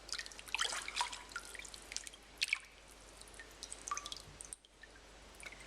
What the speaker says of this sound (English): Just put the salmon into some cold water